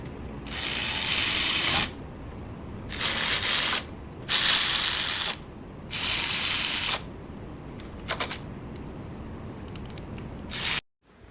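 A hand ratchet tightens bolts during assembly of a 240SX engine, around the front seal area, giving several bursts of rapid clicking separated by short pauses, close and fairly loud.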